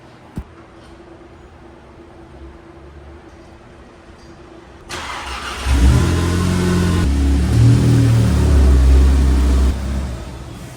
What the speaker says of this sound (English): so I'm gonna pull the car out really quick